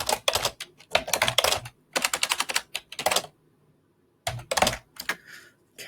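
Rapid typing on a computer keyboard, dense bursts of key clicks in several runs with a short pause in between, close and clear with no talking.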